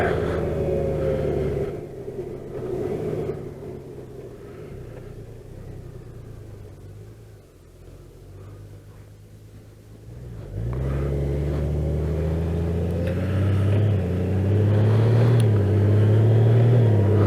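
A Harley-Davidson motorcycle engine rumbles while riding, a loud, close low-pitched drone that eases to a quieter cruise in the middle, then swells again as the bike accelerates with rising revs.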